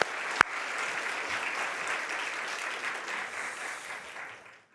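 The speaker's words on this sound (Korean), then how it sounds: "다시 한번 주님께 우리 감사의 박수 올려드립니다." A Korean church congregation applauds the choir during Sunday worship. One sharp clap is followed by warm, sustained, evenly dense clapping that gradually fades out.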